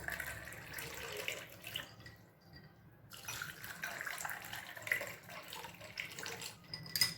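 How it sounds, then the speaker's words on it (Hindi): Cold water poured into a glass over mango panna concentrate and ice cubes, a soft continuous splashing trickle that dips briefly midway, then resumes, quiet and close. "और ठंडा ठंडा पानी डालकर"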